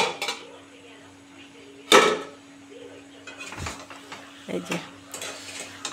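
Fish head and pumpkin chachra is stirred in a pan with scattered metallic scrapes and clinks of a utensil, one louder clatter among them, under a faint steady hum, while someone briefly speaks.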